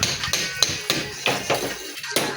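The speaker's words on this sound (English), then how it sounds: "I'm trying to remove the door." Sharp hammer taps during the removal of a house's main entrance door in a renovation, a loose series of loud, close blows with irregular spacing and background clatter.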